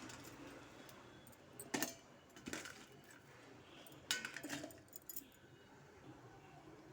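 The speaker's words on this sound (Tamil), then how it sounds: "இதை மிக்ஸி ஜாரில் சேர்த்துடலாம்." Cut tomato pieces are dropped into a mixer jar while making tomato chutney, giving a few faint, sharp knocks and clinks of food and utensil against the jar, spaced apart over quiet kitchen background.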